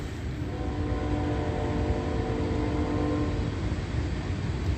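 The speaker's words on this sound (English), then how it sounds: "As I move, you're hearing a train horn just like that." An Amtrak train horn sounds in one long, steady blast at a railway crossing. It holds loud and close from start to finish over the low rumble of the passing train.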